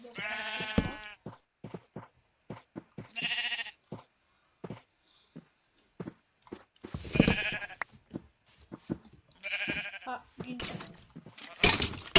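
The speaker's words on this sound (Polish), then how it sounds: "Dużo tu jest owiec." Sheep in a Minecraft village bleating repeatedly in short, separate bursts, fairly close and clear, with a player's occasional quiet talk between the calls.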